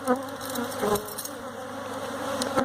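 Honeybees at an open hive hum in a dense, continuous buzz, close and steady throughout with small swells as individual bees pass near.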